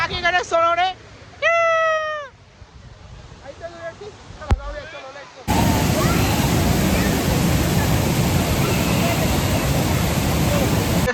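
At Tamhini Ghat, a waterfall roars loudly and steadily as a dense, unbroken rush that cuts in abruptly and fills the second half. It follows a few high, cat-like meows and quiet background sounds.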